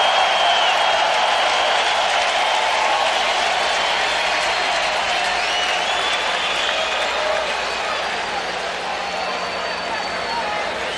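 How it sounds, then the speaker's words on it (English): A baseball crowd at Wrigley Field lets out a sarcastic cheer after a called strike, a dense, sustained roar of many voices that stays loud and steady throughout. "And a sarcastic cheer from the crowd."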